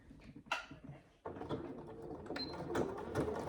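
A sewing machine stitches slowly around the piping cord of a fabric saddle bag, with a short burst of needle clatter followed by a steadier, quiet mechanical whir close by.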